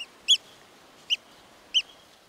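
A Eurasian oystercatcher on Wangerooge gives three short, sharp, high calls, spaced about half a second apart and fairly faint against a quiet background.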